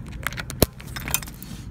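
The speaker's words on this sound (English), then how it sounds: "we better take the keys out or somebody might steal it" Keys jangle as they are pulled out of a bike's lock, with a brief metallic rattle and one sharper clink, close by and short, over faint background noise.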